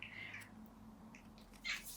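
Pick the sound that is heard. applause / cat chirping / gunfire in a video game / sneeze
cat chirping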